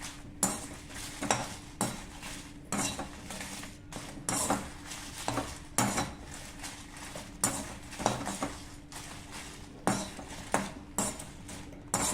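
Dried red chillies and chana dal are dry-roasted in a pan, with rhythmic scraping and clinking of a spatula against metal repeating every second or so, close up with no talking.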